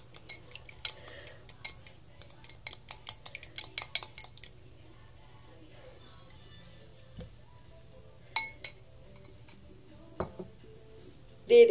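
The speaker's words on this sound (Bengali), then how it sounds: "আমি এখানে ডিমগুলোকে একটা বাটিতে নিয়ে ফেটে নিচ্ছি।" Eggs beaten in a bowl with a utensil: a quick run of rhythmic clinks for several seconds, then sparser isolated taps and knocks against the bowl, close and fairly quiet.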